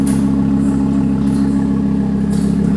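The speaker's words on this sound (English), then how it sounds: "Even the idle with the new exhaust just sounds much more aggressive." An Audi R8 idles with an aftermarket Quicksilver exhaust, giving a loud, steady, deep rumbling drone that holds constant throughout, close to the car with no talking.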